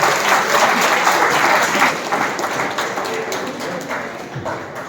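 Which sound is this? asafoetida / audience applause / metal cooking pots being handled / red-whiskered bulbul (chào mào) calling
audience applause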